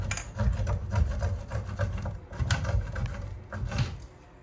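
A cutter works little by little through part of a shower drop ear tee pipe. Close, gritty rasping strokes come in uneven bursts with short pauses between them.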